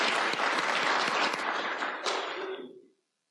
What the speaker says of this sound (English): let's have another round of applause for the other creators and readers.